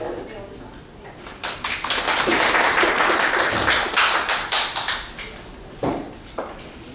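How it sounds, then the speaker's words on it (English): An audience at an international seminar on WHO pandemic treaty negotiations applauds to welcome a speaker, with a swelling burst of clapping that fades into scattered claps. "Let us welcome her with warm applause."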